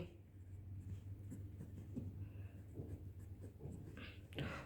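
Faint scratching strokes of an expression being written on a board during a math lesson, quiet and intermittent against a low background hum.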